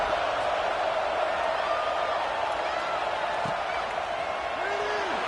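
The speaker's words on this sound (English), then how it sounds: "this crowd is feeling themselves after that last drive" A football stadium crowd roars at a Hawaii game's kickoff, a loud, steady wall of cheering and murmur that holds unbroken for several seconds.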